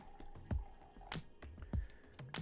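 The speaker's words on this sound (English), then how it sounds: "I'm going to add 100 milliliters of apple cider vinegar" Apple cider vinegar being poured into liquid while making vinegar, heard as a few wet drips and splashes at a steady rhythm, close and fairly quiet, with no talking.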